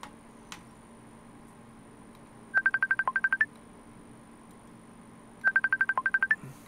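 Two quick bursts of phone keypad dial tones, about ten rapid beeps each, sound a few seconds apart over a quiet steady hum, preceded by a faint click, with no one speaking.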